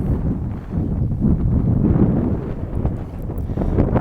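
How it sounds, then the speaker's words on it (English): Strong wind buffeting the microphone in Newcastle, Australia, in loud, rumbling gusts that rise and fall, with no voices. "it is bloody windy"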